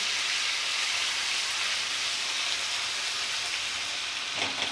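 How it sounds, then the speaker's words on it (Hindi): Ginger garlic paste sautés on a high flame for chicken fried rice, a loud, dense, hissing sizzle that holds steady like heavy rain for the whole stretch, with no voices. "अब हम इसमें सबसे पहले डालेंगे हमारा जिंजर गार्लिक पेस्ट। इसको हम हल्का सा पहले सौटे करेंगे।"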